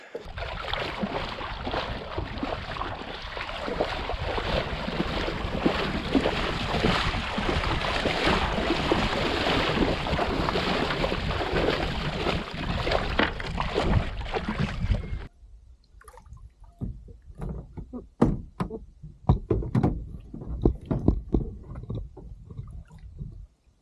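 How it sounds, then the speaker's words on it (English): A canoe dragged across a lake sandbar: a long, continuous scraping and swishing rush for about fifteen seconds, then a sudden drop to quieter, scattered bumps, knocks and splashes. "I'm just going to drag the canoe to the other side of this sandbar"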